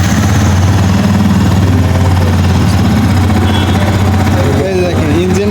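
A Yamaha R15 V3 BS6 motorcycle engine idles steadily with a loud, low, even hum, and voices talk briefly near the end.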